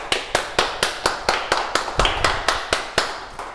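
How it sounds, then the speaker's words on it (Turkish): Crisp, evenly spaced hand claps sound in a steady rhythm of about fourteen sharp beats, from one person or a small group close by in a cooking masterclass setting. "Bravo, alkışlayalım."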